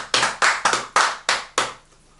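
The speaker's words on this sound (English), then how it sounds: "Let's clap for her. Clap for her." Hands clap six times in a slightly uneven rhythm, with sharp, close claps and short decays in between, followed by a brief quiet.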